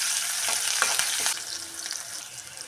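Onions and curry leaves fry in hot oil with a steady close sizzle, a few stirring scrapes early on, then a quieter hiss, no voices.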